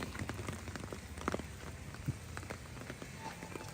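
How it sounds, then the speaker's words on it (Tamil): Heavy rain falls on an outdoor street with a steady, soft patter, and scattered louder drops and splashes stand out here and there. "மழை வந்து கடுமையாக இருக்குது இப்போ இந்த நேரங்களில்."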